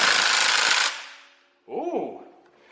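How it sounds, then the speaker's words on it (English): A 1/2-inch impact wrench on a 12mm bolt during a 2JZ engine teardown lets out one loud, harsh burst of rattling hammering. It cuts off, then a short whirring spin follows. "I never recommend using a 1/2-inch impact on a 12mm bolt"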